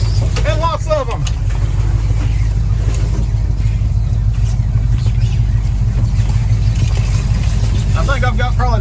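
A Jeep crawls along an off-road trail through laurel woods, its engine and drivetrain a steady loud low rumble from inside the vehicle with some wind noise, while a person talks at the start and end.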